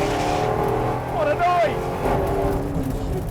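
A Ford Ranger Raptor or Bowler Bulldog 4x4 roars loudly around a tarmac racetrack, its engine note rising and falling in a steady, close drone with a brief whining pitch sweep midway.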